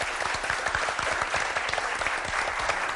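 A television studio audience claps to welcome a guest onto the set, brisk and steady applause from many hands throughout, close and fairly loud with no talking.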